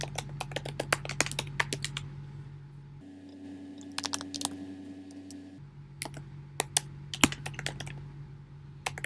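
Rapid, uneven clicking of a computer keyboard as code is typed, close and fairly quiet, in several bursts of keystrokes with brief pauses and no talking.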